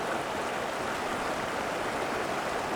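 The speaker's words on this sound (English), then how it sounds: "There's the crossing of Crabtree Creek." Crabtree Creek rushes past a trail crossing on the way to Mount Whitney, a loud, steady wash of flowing water filling the scene with no pauses.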